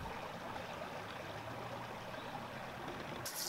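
A stream flows while a rock is rinsed in it, giving a steady, soft rushing and trickling wash that stays even throughout and sounds fairly quiet.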